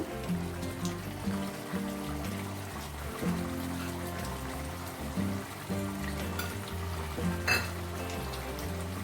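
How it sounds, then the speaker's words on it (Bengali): Rohu fish curry gravy bubbles and sizzles in a pan on the stove. The soft, steady simmer sits under a louder tonal backdrop, probably music, with occasional faint clinks. "দেখো তোমরা, ঝোলটা ফুটছে।"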